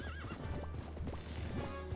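A horse in the video game Twilight Princess HD neighs with a wavering whinny early on, followed by steady clip-clopping hooves throughout two seconds over a constant game background hum, fairly close and moderately loud.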